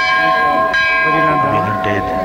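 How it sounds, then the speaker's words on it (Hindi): Bells ringing at Badrinath temple as it opens, loud metallic strikes with long sustained ringing tones layered and overlapping, with faint crowd voices underneath. "मंदिर खुलता है तो उसके घंटे बजते हैं"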